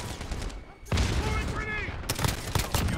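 Grenade blast and rattling gunfire from Modern Warfare multiplayer, loud and dense, with a heavy burst near the middle and repeated sharp shots continuing through.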